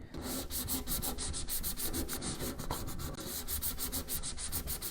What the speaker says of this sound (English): I'm just trying to scuff up the surface a little bit.